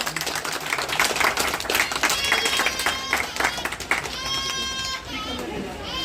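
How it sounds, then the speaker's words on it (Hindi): Audience clapping at a coaching class opening ceremony, a ragged burst of hand claps from a crowd of people, mixed with chatter and voices talking over it. "भाई एक बार जोरदार तालियां बजाइए।"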